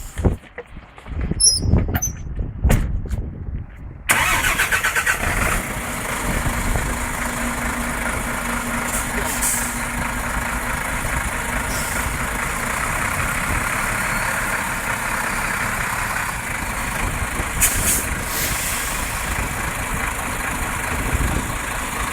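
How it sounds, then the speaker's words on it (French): A heavy truck used for tractor-trailer coupling training sits through a few seconds of clunks and knocks, then its engine starts and settles into a steady idle. Brief hissy bursts, like air releases, rise above the idle. No one speaks. "Je vais avancer le camion pour pouvoir mettre en position route un petit peu."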